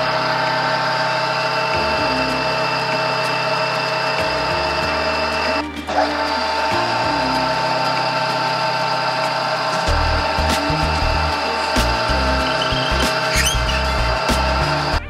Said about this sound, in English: I think I'm just going to drill the holes first.